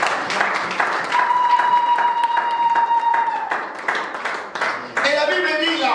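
A church congregation claps and cheers in praise of the Lord during a French-language sermon. The applause is steady and mixed with voices and shouts, with a sustained tone like a held note or feedback partway through.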